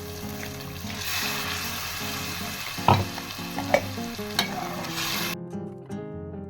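Goan pepper and cumin curry masala frying in a pan, a close, steady sizzle with a few sharp clinks of a spoon against the pan, cutting off abruptly near the end; no one speaks.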